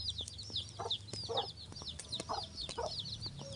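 Backyard pet chickens cluck and chirp in short repeated bursts, fairly near but soft, with high bird calls and scattered clicks in a quiet outdoor setting.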